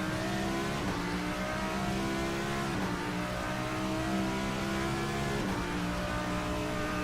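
GT race cars accelerating onto the Nürburgring Nordschleife through the Spain-Schmitz curve during the 24-hour race, a continuous loud engine drone with rising revs and a few gear-change dips, no talk.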